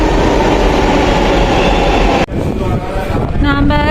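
A Bengaluru metro train, loud and continuous rumble filling the first two seconds, then a sharp cut to a quieter interior with rising whine tones and a steady tone near the end.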